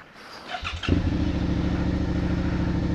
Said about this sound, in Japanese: いやしかしこのエンジンをかけた直後のこの音